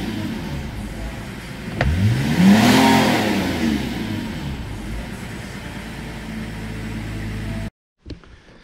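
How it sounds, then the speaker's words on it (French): A BMW 325TDS diesel engine idles, then revs sharply up and holds high before falling back, loud and close with a clear rising and falling pitch sweep. "Et ça, c'est un diesel qui prend 5005."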